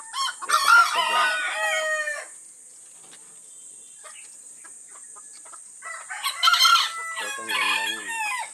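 Two bantam micro roosters, small brothers kept penned, crow in turn: one crow rings out clear and close at the start, a quiet gap follows, then a second crow overlaps with clucking near the end.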